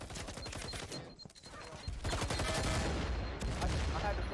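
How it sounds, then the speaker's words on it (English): Sustained suppressive gunfire in a multiplayer shooter match, rapid dense bursts of shots that dip briefly after the first second and then resume loud and continuous to the end. "Turtle pushing in, dropping a lot of suppressive fire"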